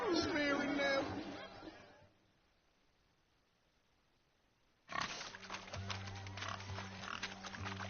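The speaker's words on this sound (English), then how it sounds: "Look at the fools falling over themselves to catch a painted pig." A painted pig squealing during a pig-catching contest in The Witcher 3, high shrill squeals at first, then a quiet gap, then louder busy noise with more squeals and voices underneath.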